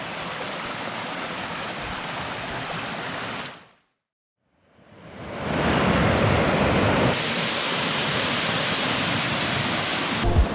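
Rushing waterfall on a steep hillside trail, a steady broadband roar that drops out briefly, then returns closer and louder and holds with no voices.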